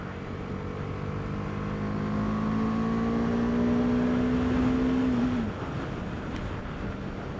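Single-cylinder BMW G310R motorcycle engine, a 2018 model on a test ride, droning steadily with a rising tone that holds and then drops off sharply as the throttle closes, under constant wind rush.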